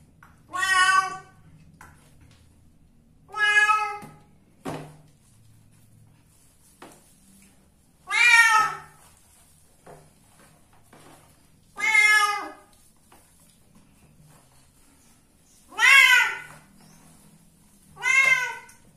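A domestic cat being bathed gives seven loud, drawn-out meows at irregular intervals, close by, with faint splashing and handling noises between the cries.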